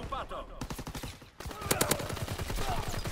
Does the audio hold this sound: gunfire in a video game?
yes